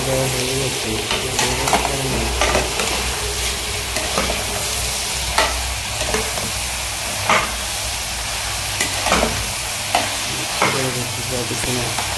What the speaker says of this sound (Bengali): লাউটা যে কেটে রেখেছিলাম সেগুলো দিয়ে দিচ্ছি আমি এখন